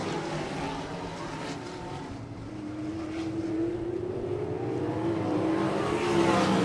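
ASCS Elite non-wing sprint cars race on the dirt oval at South Texas Race Ranch, a pack of engines roaring and swelling louder as they pass, heard alone without talk.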